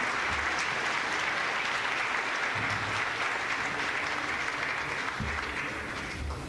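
An audience at a conference session on innovation and projects claps steadily, a sustained, even wash of many hands from start to finish, moderately quiet and without speech on top.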